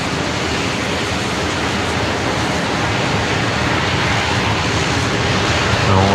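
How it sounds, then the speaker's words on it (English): A Qantas airliner takes off from Brisbane Airport at night, its engines making a loud, broad, steady roar that fills the whole stretch without easing. "Qantas 633 is rolling now, so they're heading off to Melbourne tonight,"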